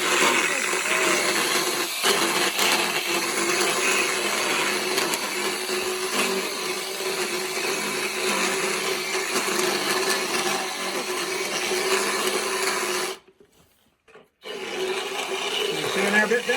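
A power tool grinds and rasps steadily against a lightly sedated horse's molars, a continuous harsh whirring that runs almost unbroken and drops out briefly for about a second near the end before resuming.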